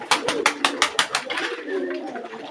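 Pet pigeons make a quick series of rhythmic, sharp pulses close by, followed by softer, lower murmuring coos as the burst settles.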